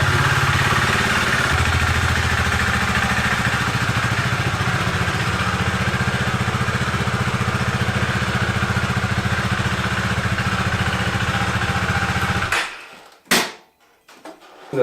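A Husqvarna Svartpilen 401 motorcycle idles with a steady, close, throbbing engine hum, then cuts off abruptly near the end, leaving a few brief clicks and knocks.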